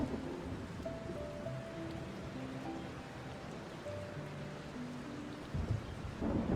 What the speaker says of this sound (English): Within minutes, rain and storm took over